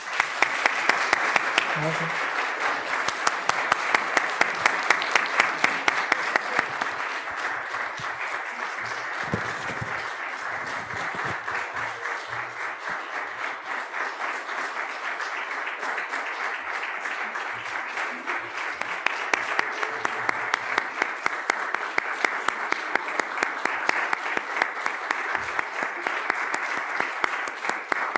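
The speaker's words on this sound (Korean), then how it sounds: "축복하면서 박수하겠습니다" A church congregation applauds to welcome three confirmands and three newly baptized members, a sustained crowd of dense clapping lasting the whole stretch, moderately loud, with a brief spoken greeting near the start.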